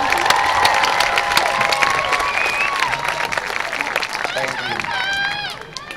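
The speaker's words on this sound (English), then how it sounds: "Let's give them a round of applause." A high school graduation crowd applauds and cheers Magna Cum Laude graduates: loud sustained clapping mixed with whoops and shouted cheers from many people, tapering off slightly at the close.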